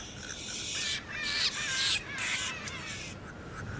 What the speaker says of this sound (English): Through body language, such as fluffing of feathers, head movements, and calls, the egrets communicate with each other.